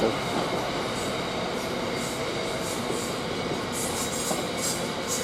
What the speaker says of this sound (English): We've got a Freightliner this time, so it'll be a 66 Freightliner.